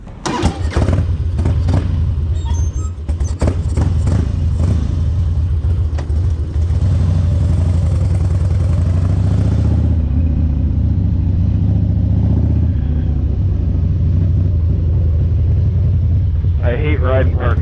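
A motorcycle rides slowly through a parking lot with speed bumps, its engine rumbling steadily up close with buffeting wind noise and a voice talking over it.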